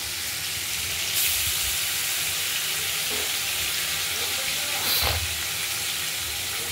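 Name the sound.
boal fish frying in a kadai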